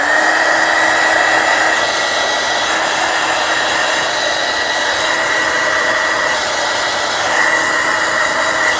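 A heat gun blows a steady, loud whoosh close by while gently warming a freshly poured two-part epoxy clear coat, holding an even tone throughout without talking.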